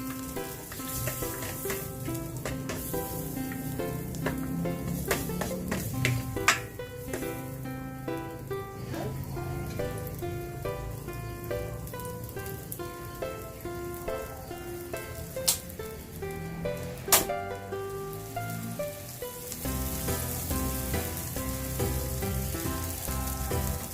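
Garlic sizzles and crackles steadily in a frying pan, a continuous close hiss with occasional sharper pops and stirring scrapes, while faint background music plays throughout.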